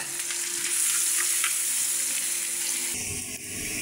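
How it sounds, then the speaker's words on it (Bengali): Chopped onions fry in hot oil until crisp and browned, a loud, continuous close sizzle that shifts briefly near the end as if stirred. "তেলের মধ্যে পেঁয়াজ কুচিগুলো বেরেস্তা করে নেব"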